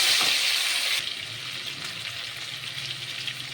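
Chicken goes into sugar browned in a hot pan and a loud, close hiss erupts, then settles after a second into a steadier, quieter sizzle.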